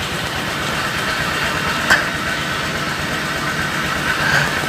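Steady engine rumble from a crowd of motorcycles idling nearby at a roadside stop, a continuous dense drone with a faint higher whine and no talk.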